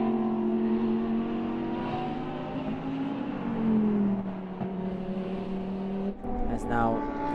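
Onboard a number 26 GT endurance race car lapping Autodrom Most, the engine drones steadily and loud with shifting pitch sweeps as it accelerates and lifts through corners, a sharp drop and burst near the end.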